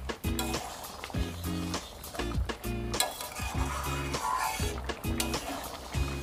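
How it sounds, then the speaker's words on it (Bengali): Ghugni with garam masala is stirred in a pan, a ladle scraping and knocking against the metal in repeated strokes about twice a second over a soft simmering sizzle, close up with no talking. "গরম মশলা দিয়ে আর একটু আমি নেড়ে নিচ্ছি।"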